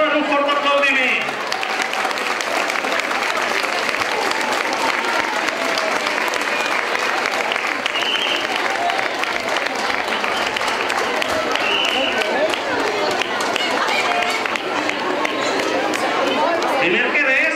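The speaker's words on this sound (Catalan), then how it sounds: "Rebeu-lo amb un fort aplaudiment." A festive crowd at a Three Kings parade gives the Kings a loud round of applause on their arrival. The clapping is sustained and dense for the whole stretch, with chatter and a few shouts mixed in.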